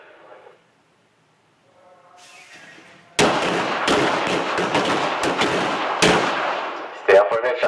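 Rapid handgun shots ring out on an LAPD qualification course, a sharp burst of several loud, closely spaced cracks with echoes, followed by a second quick string near the end.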